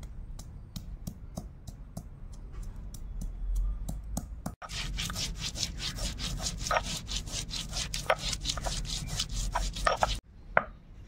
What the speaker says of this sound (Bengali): এবার আমি আদাগুলো বেটে নেব।